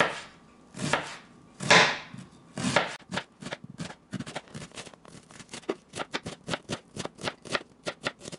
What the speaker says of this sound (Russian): Измельчили лук привычным для нас способом.